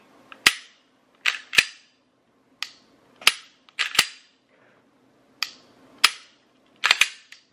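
A Gen 5 Glock 23 pistol is dry-fired repeatedly, giving about a dozen sharp, close trigger clicks and resets in an uneven rhythm against near silence.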